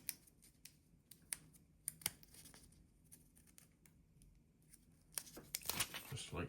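Backing paper peeled off postcard stickers in a few quick tearing strips, with scattered faint ticks and rustles before and a brief louder flurry of crinkly peeling near the end, all close.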